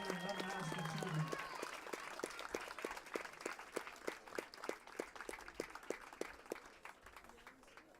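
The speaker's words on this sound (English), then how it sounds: "Let's please give these ladies another round of applause for their unprecedented and unmatched achievement." Audience applause for a high school softball team at a ceremony, a short burst of clapping fading into scattered claps, with a voice speaking over it near the start.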